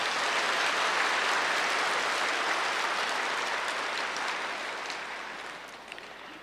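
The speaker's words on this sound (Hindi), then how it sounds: "ताली बजाओ अच्छी तरह से।" A large seated audience at a Hindi spiritual discourse claps in a dense, steady roar that gradually thins and fades toward the end.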